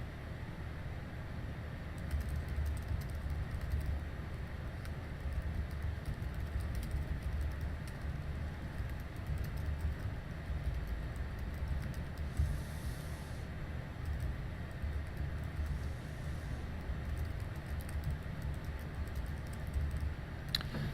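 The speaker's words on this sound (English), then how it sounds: "and I'm going to type my question here." Steady, fairly quiet clicking of computer keyboard keys while a quiz question is typed, in irregular bursts over a low room hum, with no speech.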